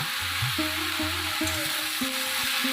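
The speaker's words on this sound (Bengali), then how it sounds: "দিয়ে ভালো করে মিক্স করে নিলাম কিছুক্ষণ ওটা আমি কষে নেব" Telakuchi leaves are stirred with salt in a hot pan, a steady sizzle under a spoon scraping in a quick, regular rhythm close by.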